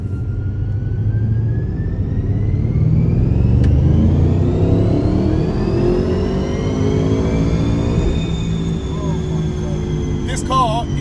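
An Audi RS7 engine revving hard on a dyno in fourth gear, a loud sustained roar rising steadily in pitch as it pulls through the run, then easing off near the end with a few short chirps.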